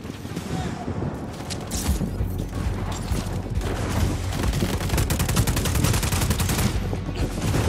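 Rapid, sustained gunfire from a video game battle, a dense stream of close shots that stays loud throughout with no pauses.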